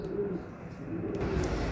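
Pigeons cooing in a loft of female birds, a steady low murmur of overlapping coos close by with continuous soft background noise.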